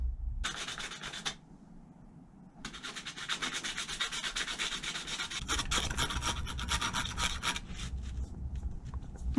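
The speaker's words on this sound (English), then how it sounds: "let's do some sanding" Sanding strokes rasp steadily and close up on a BMW R1250R motorcycle, stopping briefly near the start before resuming in a continuous, scratchy rhythm.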